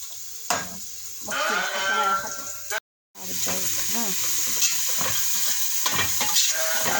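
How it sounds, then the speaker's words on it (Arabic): Dill, onion and oil frying in a pot, with a steady crackling sizzle and scraping as the mix is stirred quickly. There is a brief dropout partway through. "قلبه هيك تقليبه سريعه للشبنت ويا البصل والزيت"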